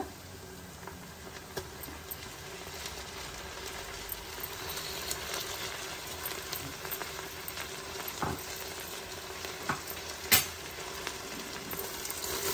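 Chopped fresh mint added to hot oil with garlic paste for a chicken pulao, giving a steady close sizzle and hiss with scattered light clicks and pops, plus one sharper crackle near the end.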